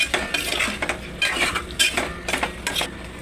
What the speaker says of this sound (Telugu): ఉప్పు వేసుకొని బాగా కలుపుకోవాలి.